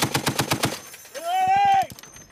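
A .50 caliber machine gun mounted on a Humvee fires a quick rhythmic burst on a live-fire range, followed by a loud drawn-out shouted command over further distant pops.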